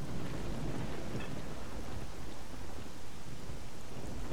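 Steady heavy rain with deep rolling thunder in a video game set in Zaton near Pripyat, a continuous dense wash of downpour with low rumbles throughout and no talking.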